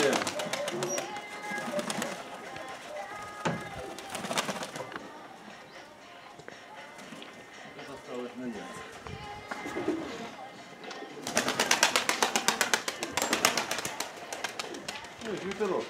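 Pigeons cooing at a village pigeon loft in Shakhovo, soft repeated coos and wing flutters close by, with men chatting over them.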